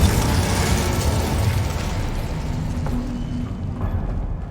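A fiery blast from the Incendio spell in Hogwarts Legacy, a loud burst and roar that settles into a crackling rumble and fades slightly toward the end.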